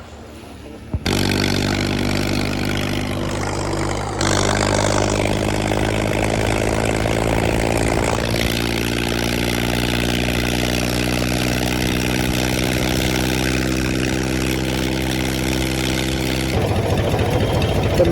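A tractor engine runs steadily and loudly close by, with a strong low droning hum and a regular beat, for the whole stretch and no talk over it.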